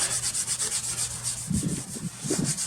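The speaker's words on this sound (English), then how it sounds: "I'm gonna come with my SOS pad. I'm just gonna scrub," An SOS pad scrubs a Buick car rim lubricated with WD-40, making a close, continuous rhythmic back-and-forth rasping with quick regular strokes and a few heavier scrapes near the end.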